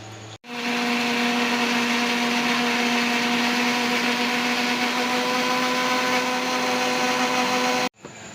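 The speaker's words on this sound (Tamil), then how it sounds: "இதை நல்லா நைஸாக நல்லா மயமயன்னு அரைச்சி எடுத்துகிட்டு வந்துடலாம்." A kitchen blender grinds onions, curry leaves and coriander into a fine paste, starting abruptly and running as a loud, steady whirring drone for about seven seconds before cutting off.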